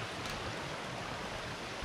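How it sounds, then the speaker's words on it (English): Water rushes steadily through the cave river at Ogbunike Cave, a dense, even wash of flowing water with no voices and no break in the sound. "Here we are at the cave river of Ogbunike."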